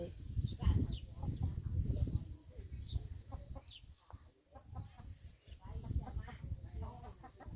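Hens cluck and murmur steadily nearby, with low talk and background farmyard noise mixed in.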